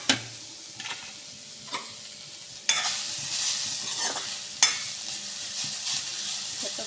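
Grated coconut being fried for a masala in a pan, a soft steady sizzle broken by several sharp stirring scrapes and clanks, close and with no talk.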